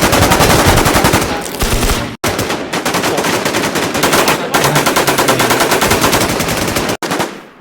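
Rapid automatic gunfire from the online shooter Infestation rattles without a break. The loud bursts pause briefly only twice and carry no voices over them.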